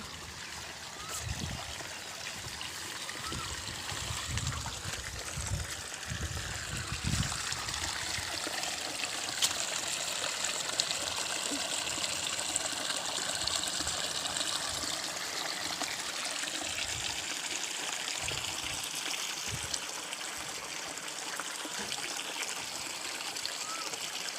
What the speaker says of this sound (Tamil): அங்கிருந்து வந்த தண்ணி அப்படி இங்கே வருது.